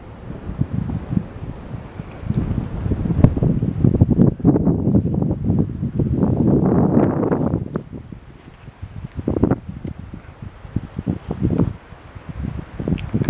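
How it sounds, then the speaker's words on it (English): Strong gusty wind on a High Sierra mountainside buffets the microphone in loud, uneven roaring bursts that swell and fade over several seconds, with no voices. "called Marisa, and man is it windy"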